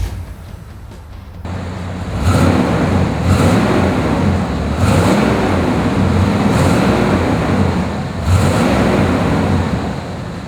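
A 1988 Chevrolet Monte Carlo V8 with a 4-speed automatic starts up after a quiet moment, then settles into a loud, steady rumble with occasional rising swells.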